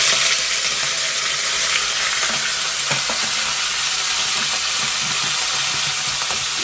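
Rougail graton, crispy pork pieces, frying in a pot, a loud, dense, unbroken sizzle and crackle heard close up with occasional stirring knocks and no talking.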